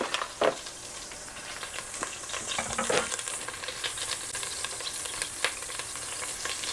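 Hot oil in a pan while cooking Tex-Mex chili with chorizo and beef gives a steady sizzle with scattered sharp pops and crackles, close and continuous.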